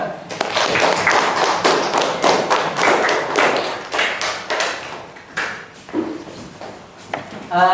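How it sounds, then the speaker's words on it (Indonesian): Students in a teacher-training classroom lesson clap for a classmate group, a scattered, uneven patter of hand claps from a small crowd with quieter gaps between bursts and some talk mixed in. "tepuk tangan untuk kelompok 2"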